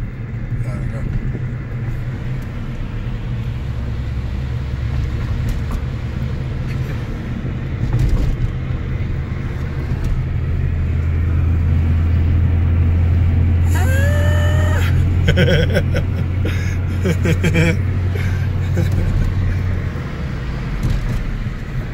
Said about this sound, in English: have to rev it up